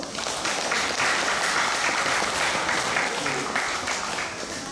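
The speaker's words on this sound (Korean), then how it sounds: "박수 한번 쳐주십시" An audience at a Korean sijo recital applauds loudly and steadily, a dense wash of clapping that holds throughout with no pauses.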